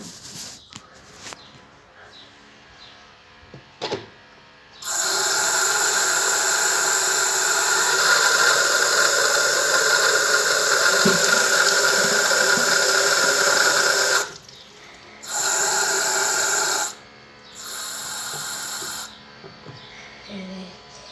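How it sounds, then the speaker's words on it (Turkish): Tap water gushes into a container close by: a steady, loud rush of about nine seconds, then two shorter bursts of running water after a pause, with no one talking. "Şimdi buna su dolduracağım."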